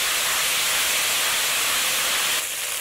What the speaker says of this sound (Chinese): 往锅内加油，放入郫县豆瓣酱，